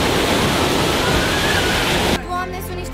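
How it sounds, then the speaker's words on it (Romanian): Huge waves surge through a wave pool with a loud, roaring rush of churning water that cuts off abruptly, with voices faint in the background. "sunt niște valuri uriașe"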